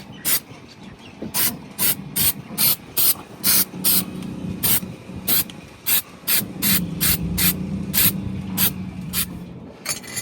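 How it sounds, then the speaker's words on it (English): Repeated short hissing bursts from an aerosol can of cold galvanizing spray on bare metal, rapid and regular, close up, with a low mechanical hum underneath. "throw a little bit of cold galvanizing spray on the bare areas just to slow down the rust"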